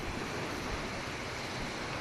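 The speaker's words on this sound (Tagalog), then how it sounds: "Dahil low tide ngayon, ikot-ikot tayo sa tabi ng dagat." Gentle waves wash steadily onto the shore at low tide near the Twin Islands in Nasugbu, Batangas, a soft, even surf mixed with light wind and no talking.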